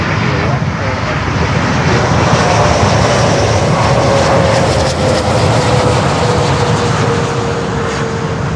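An ITA Airways Airbus A330-900 airliner at Miami airport, its engines giving a steady, loud roar with a faint whine across the whole stretch, with no clear break in the sound.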